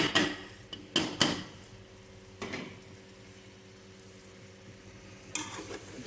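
Tripe (boti) curry being stirred in a pan, with a few sharp scraping and clanking strokes at the start and again near the end over a low, quiet simmer.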